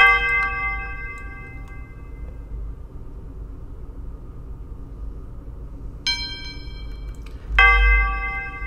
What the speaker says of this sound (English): This right here is the church bell from it.